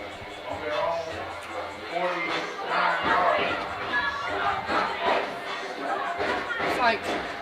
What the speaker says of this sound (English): it is a pretty loud crowd here tonight.